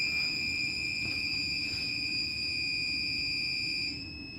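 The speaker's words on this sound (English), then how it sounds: "the alarm on the monitoring system will continue to sound" A superyacht's fire alarm monitoring system sounds a piercing electronic tone, held continuously at a steady pitch, loud and unbroken, dropping slightly in level near the end.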